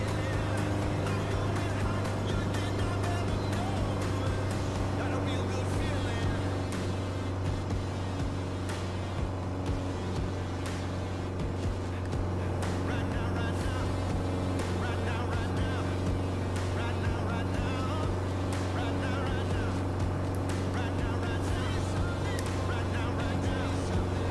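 A Piper PA-28R Arrow taking off in Microsoft Flight Simulator 2020, its single engine giving a loud, continuous droning hum that holds steady throughout.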